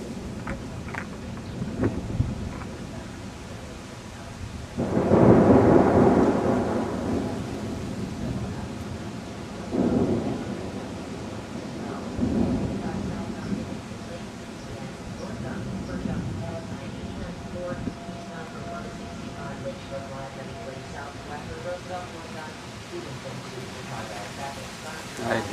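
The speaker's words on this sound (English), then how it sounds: "Alright, here comes the rain." An outdoor thunderstorm with steady rain hissing throughout, a loud nearby thunder crash that rolls for a couple of seconds, then several fainter distant rumbles, with occasional speech in the background.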